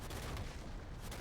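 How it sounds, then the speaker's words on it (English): A rumbling barrage of cannon blasts from the Cannon Barrage ability in League of Legends, a dense, muffled, continuous booming under match audio. "The Cannon Barrage doesn't really catch anyone."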